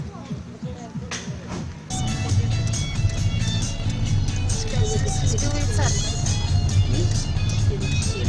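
A car drives through a town, heard from inside the cabin as a steady low road and engine rumble. Voices talk over it throughout.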